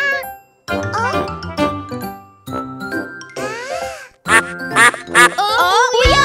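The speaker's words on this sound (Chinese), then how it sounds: "我们是三只小鸭子，嘎 呱 啊嘎啊" Cartoonish duck quacks repeat in bright bursts within a lively children's song, mixed with tinkling chime sounds and sung voices over loud, bouncy music.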